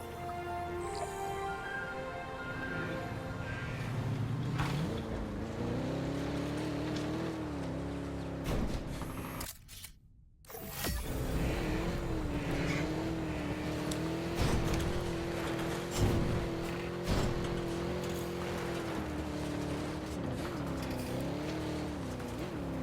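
Camera vehicle in Jurassic World Evolution 3 driving with a steady engine drone that rises in pitch, dips briefly to near silence partway, then resumes at a steady level to the end.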